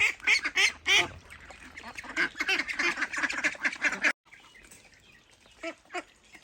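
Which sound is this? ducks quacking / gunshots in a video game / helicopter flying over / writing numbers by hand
ducks quacking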